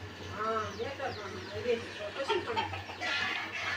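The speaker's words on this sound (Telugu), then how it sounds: "ఆ కోడి పుంజు అయితే కట్టేస్తున్నారు మా అమ్మోళ్ళు." Rooster clucking and crowing-like calls at a village Kanuma harvest festival, close and clear, with steady background hum.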